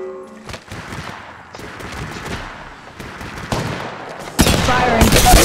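Gunfire in Apex Legends Mobile rattles in steady rapid bursts throughout, building to a loud, dense volley near the end with heavy impacts.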